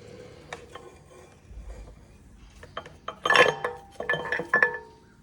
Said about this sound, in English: I'm gonna try to get the camshaft loose if I can.